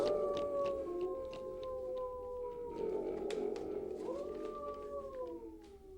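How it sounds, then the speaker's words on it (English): Wolves howl in long, wavering, overlapping tones that rise and fall, sounding moderately distant and steady over several seconds, with no voices over them. "The howling of wolves was growing less."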